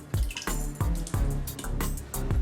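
Excess water drips from a removed Unger HiFlo RO30GC water filter, about six close, distinct drops falling at an uneven pace.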